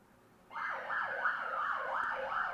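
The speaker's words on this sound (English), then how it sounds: "hella sirens outside" A wailing siren rises and falls in quick repeated sweeps, loud and steady, starting abruptly after a brief quiet moment.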